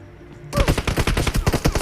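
Rapid automatic gunfire from the battle royale game BGMI, a close, loud burst of shots in a dense rhythm that starts abruptly after a moment of near silence and continues without talk.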